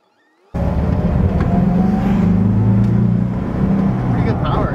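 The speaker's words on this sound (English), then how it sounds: "Let's take this thing for a spin. Key in, neutral, clutch in," An off-grid camper rig's engine bursts in after a moment of near silence, then holds a loud, close, steady rumble with shifting low droning tones as the vehicle pulls away.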